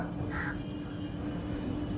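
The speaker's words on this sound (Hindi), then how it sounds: "कौवा बोल रहा है" A crow caws once, short and fairly close, over a steady low hum of background noise, with no speech.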